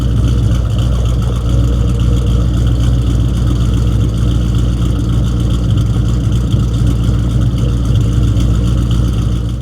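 A supercharged car with Anderson F42 blower cams idles with a loud, steady, rumbling drone close by and a faint lope in its rhythm. No one speaks.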